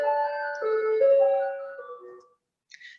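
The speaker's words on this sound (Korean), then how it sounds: "지금 종소리가 들리고 있네요." Electronic chime melody, a school-style bell of several sustained tones descending over about two seconds, fairly loud and alone, then fading with a short faint tone at the end.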